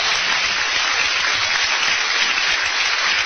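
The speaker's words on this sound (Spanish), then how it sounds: "Den un aplauso al Señor." Congregation applause during a church sermon, a dense, steady wash of clapping that holds at an even loudness for the whole stretch, with no talk over it.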